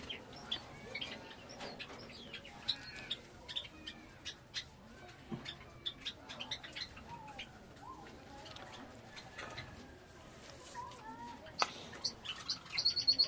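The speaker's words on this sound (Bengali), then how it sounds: "ককাটেল পাখিরাও কত সুন্দর খাচ্ছে দেখুন" Several pet cockatiels chirp and tweet in short, scattered calls. The calls are fairly close but quiet, and other faint bird sounds and soft background noise come from a room where the birds are feeding.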